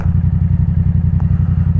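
A loose, unclosed engine cap flaps on a 2024 Yamaha MT-07 motorcycle while riding, a rapid, steady clatter riding over the loud, close engine drone throughout.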